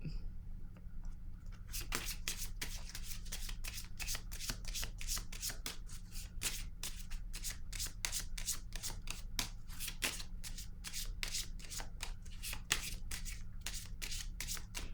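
Tarot cards are shuffled and drawn by hand in a dense, continuous papery riffling crackle that runs close and steady for the whole stretch over a low constant hum.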